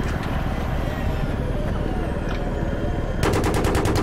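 Burst of rapid automatic gunfire in the Battlefield 3 video game, a fast regular volley near the end over a continuous loud engine-like rumble.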